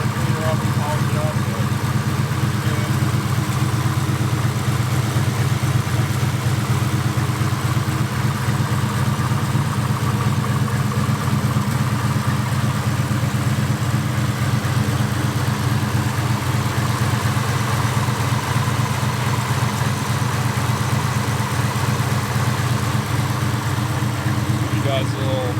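A turbocharged 2.0 car engine, Turbo 2v, idles with a steady, loud, low rumble heard close up, unbroken throughout, with no audible talking.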